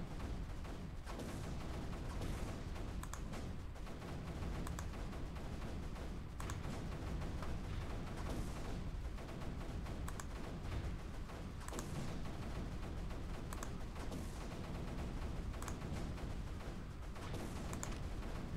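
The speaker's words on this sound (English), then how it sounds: "now I want to start moving these mortars up so they can hit up here and support the advance properly." Mortars fire in the Creeper World 3 strategy game as a dense, continuous rumble of muffled booms and crackles. It stays low in level and unbroken throughout, with no clear gaps between shots.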